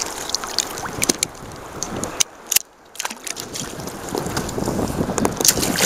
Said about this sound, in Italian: c'è il vento